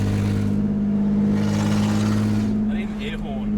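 A Holden VL idles with extractors and a 2.5-inch straight pipe, no cat and no mufflers, giving a steady deep drone with faint crackle, and people's voices are heard over it.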